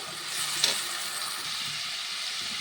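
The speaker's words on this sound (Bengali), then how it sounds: "এটা সুন্দর করে ভেজে নেবো তেল ছাড়া পর্যন্ত" Onion paste frying in oil in a pan for a Bengali curry, a steady close sizzle and hiss throughout with one brief stir clink, no talk.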